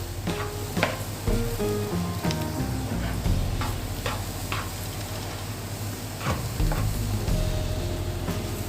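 A kozhukatta mixture with ground cardamom stirred in a hot pan: a close, loud sizzle runs throughout, broken by repeated sharp scrapes and clicks of the spoon against the pan, with no voices.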